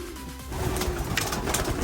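Pigeons coo from a loft holding about 150 birds, soft repeated throaty coos overlapping close by, with no talking.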